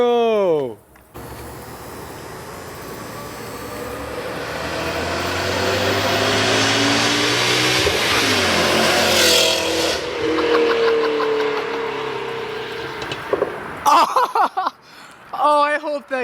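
Car engine revving up in one long sustained climb that drops off and ends in a small pop, with people speaking excitedly around it at the start and end.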